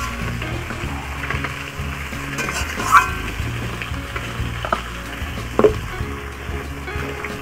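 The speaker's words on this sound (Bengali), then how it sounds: "তারপরে আমি এই মাছগুলো সামড়ে নেব" Fish pieces frying in a kadai, a steady close sizzle with stirring and a couple of sharp scraping clinks, no voices.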